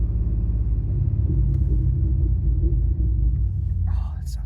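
A car fitted with a Hooker Blackheart exhaust puts out a deep, loud, continuous rumbling burble that dominates throughout, with faint voices murmuring underneath.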